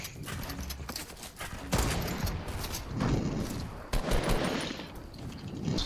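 Gunfire in the video game Fortnite, heard as bursts of rapid shots and sharp cracks over a busy game soundscape, with irregular louder impacts throughout.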